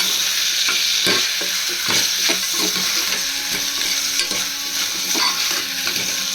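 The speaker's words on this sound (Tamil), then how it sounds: "ஃப்ரை ஆகிடுச்சு மிளகுத்தூள் சீரகத்தூளோட கொஞ்சம் ஃப்ரை பண்ணிக்கணும்" Ground pepper and cumin powder fry in a pan for a chest-bone soup, with a steady close sizzle and repeated scraping stirs of a spoon.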